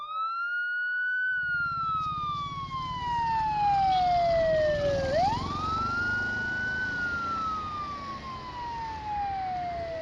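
A police car siren wails loud and close, its pitch rising and falling in long sweeping cycles over a low engine rumble, with no voices.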